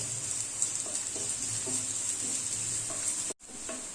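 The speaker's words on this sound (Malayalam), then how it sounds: "വെളിച്ചെണ്ണ ഒഴിച്ചു കൊടുത്ത് അതിലേക്ക് നമുക്ക് ഈ ചെറിയ ഉള്ളി അരിഞ്ഞത് ഇട്ട് കൊടുക്കാം." Chopped shallots frying in coconut oil for a Kerala fish curry, a steady bright sizzle with faint stirring taps throughout, cutting out briefly near the end before resuming.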